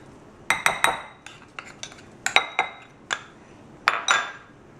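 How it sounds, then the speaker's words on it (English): Almond nibs tumble into low-fat vegan chocolate chip cookie dough in a bowl, giving a run of sharp, close clinks and clatters in several separate bursts with short quiet gaps and no talking. "And now I'm going to add my almonds."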